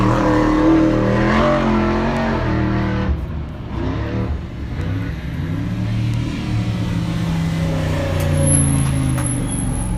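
Ultra4 off-road race car passing during the Wild West 100 race, a loud engine roar with shifting pitch as it goes by, dipping briefly midway before building again, with a faint high whine later.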